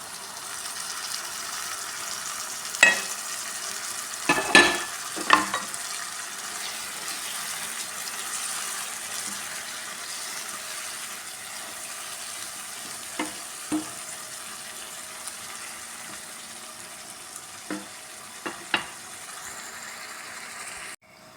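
Prawns sizzle and fry in a roasted cumin masala, a steady crackling hiss throughout with a few louder spatters and stirring clatters scattered through it.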